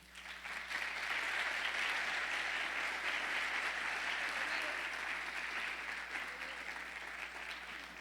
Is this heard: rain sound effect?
no